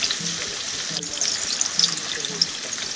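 Chopped onion fries in about three tablespoons of oil on an electric stove, a steady close hiss with light crackles and spatters, and a voice briefly audible underneath.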